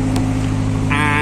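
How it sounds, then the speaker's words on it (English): Steady low engine drone of a Spring Horizon 2 cruiser on the Norfolk Broads, heard from inside the master cabin as a constant loud hum with a brief higher whine near the end. "I'll close the door to try and keep out some of the engine noise"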